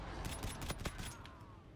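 Light machine gun fire in Call of Duty: Infinite Warfare, a slow run of about eight heavy, evenly spaced shots over roughly a second, then fading tail with faint background noise.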